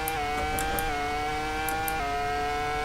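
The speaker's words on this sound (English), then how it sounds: "The sound of the F2004 brought you back." A Ferrari F2004 Formula One car's engine in the Assetto Corsa racing game: a loud, high-pitched sustained V10 scream with small pitch dips at shifts, plus occasional brief high clicks.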